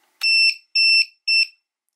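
Three loud, shrill electronic alarm beeps from a ViFLY Finder 2 lost model alarm buzzer, each about a quarter second long, evenly spaced with silence between them.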